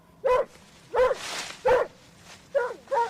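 A dog barks five times in short, spaced yaps, fairly close and clear, with little else around.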